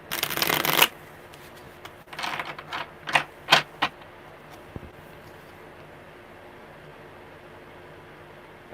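A deck of tarot cards is shuffled up close: one loud riffling burst, then a pause, then a few shorter slaps and flicks of cards before the sound settles into quiet room tone.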